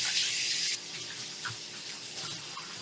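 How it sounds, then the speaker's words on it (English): Tap water runs steadily into a sink as hands are washed beneath it, close and continuous, with a louder gush at the start before the flow settles. "let's wash our hands"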